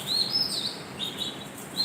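Several high, thin bird chirps repeat at intervals over a steady background hiss in Dhaka city, moderately close, with no voices.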